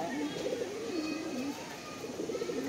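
Punjabi Malwai pigeons cooing in a village loft, a steady run of low, rolling coos that rise and fall close by over a faint background hum.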